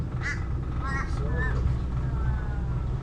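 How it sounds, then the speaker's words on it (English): Several bird calls ring out over steady background rumble and a voice talking. The calls fit a crow cawing in a paperbark tree along the Yellow River in Kakadu. "Now I can hear that crow"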